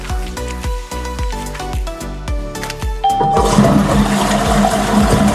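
Cartoonish game sound effects, a few plinking tones, lead into a toilet flushing after being unclogged, a steady watery rush that fills the last couple of seconds, near and fairly loud.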